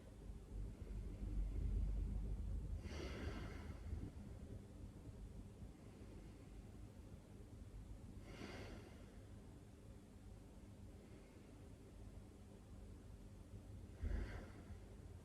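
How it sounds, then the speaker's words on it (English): Three deep yoga breaths spaced several seconds apart, each a soft rushing exhale over a low background rumble, faint and close, with no talking. "Take 3 really deep breaths here."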